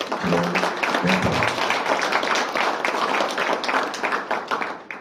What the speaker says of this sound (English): A round of applause to Petra.